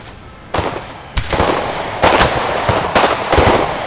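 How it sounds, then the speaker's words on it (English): Musket platoon volleys in Empire: Total War crack out in a ragged sequence, five or six loud bursts rolling one after another over steady battlefield noise. "So watch the platoon fire there."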